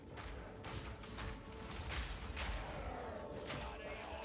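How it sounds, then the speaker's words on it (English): Explosive grenades detonating in Path of Exile 2 for a mercenary's screen-wide blasts, a dense, continuous crackle of overlapping booms and rattling bursts at moderate loudness, with no pauses between impacts. "Which skill is doing the screen-wide boom? So we have our explosive grenades."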